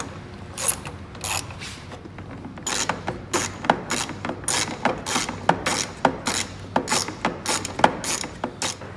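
Headlight screws on a 2006-2010 Dodge Charger are tightened with a ratcheting tool, giving a run of sharp, quick clicks in irregular bursts close by, with no talk.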